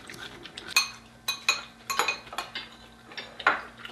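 Spoons and chopsticks clink against bowls and dishes during a family meal at home, a run of light, close, irregular taps and scrapes with no talking.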